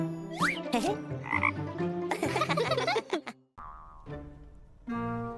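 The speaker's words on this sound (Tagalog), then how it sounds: "Isang palaka!" Cartoon frog croaks ring out repeatedly, bouncy and springy, mixed with playful sound effects and music.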